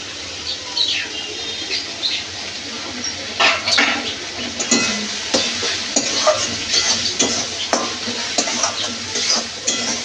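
Ground spices cumin, turmeric, coriander and chili powder sauté with crab in a hot pan, giving a steady sizzle broken by repeated scraping stir strokes, close and fairly loud, with no talking.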